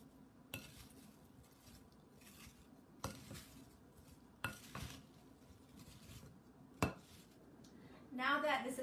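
Apple slices being tossed to coat them evenly bring quiet, scattered clinks and knocks of a utensil against a dish, spaced a second or two apart, with a voice starting at the end.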